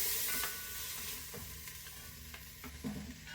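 Pieces of sirloin steak sizzle as they sear in a hot pan for a stew, a steady frying hiss broken by occasional scrapes and taps of a utensil, fairly quiet and with no voices.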